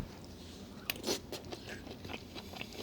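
Close eating of a Southwest pork chopped salad, with crisp bites and moist chewing crunches in irregular bursts, no talking.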